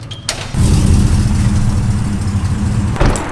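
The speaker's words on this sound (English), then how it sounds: "And I actually just heard him pull up. You guys can hear his truck." A lifted pickup truck's engine runs loud and near, rising into a steady rumbling idle after a brief start, with a short clunk near the end.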